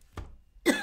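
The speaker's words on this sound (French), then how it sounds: "Et ça me fait encore tousser." A single short cough comes up close, a brief rough burst, then after a short pause a louder throaty cough or throat-clearing sound follows.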